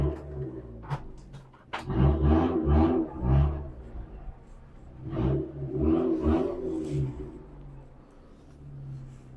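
A stock-engined Mitsubishi Colt Ralliart rally car with its exhaust line removed revs hard in several sharp bursts, each rising to a raw, loud roar then dropping back to a low idle, close to the car.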